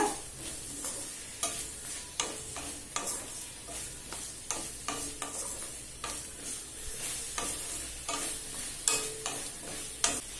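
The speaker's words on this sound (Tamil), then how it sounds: "காய்கறியை நல்லா வதக்கிக்கோங்க" Vegetables for sambar sizzle in a hot pan while a utensil repeatedly scrapes and stirs them, producing steady crackling with frequent sharp clicks.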